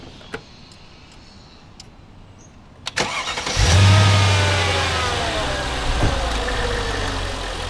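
A rat-damaged 500-horsepower AMG Mercedes engine, freshly fitted with new belts, cranks briefly after a few faint clicks, then catches with a loud, close roar and settles into a steady, smooth running drone.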